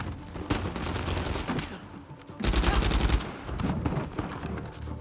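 Gunfire in the video game Uncharted 4 comes in rapid bursts of loud, sharp shots, with a heavier volley midway and more fire after a brief lull.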